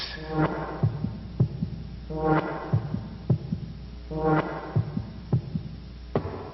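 Deep, booming heartbeat thumps from a Nickelodeon TV bumper, heard as slow paired beats under a low swelling hum that repeats at long, even intervals, loud and close with no voices.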